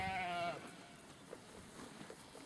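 A village herd of sheep or goats bleats in open pasture, with one clear, loud bleat at the start followed by fainter, scattered calls and rustling in the background.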